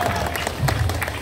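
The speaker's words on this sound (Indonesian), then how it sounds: "Beri tepuk tangan untuk Haji Rustandi." Crowd applause at an Indonesian political rally in Purwakarta for the Poskora chairman: a brief, dense patter of clapping with some voices mixed in.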